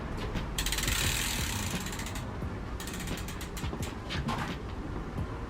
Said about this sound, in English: flip your bike upside down so it's easier to work on